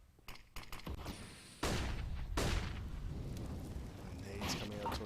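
An HE grenade detonates on the Mirage map in Counter-Strike, a sharp loud blast followed by a rumbling decay, amid scattered gunfire and a caster talking over the match.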